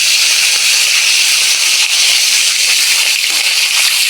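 Hot mustard oil sizzles in a pan, a loud, steady, bright hiss that holds evenly throughout with no pauses.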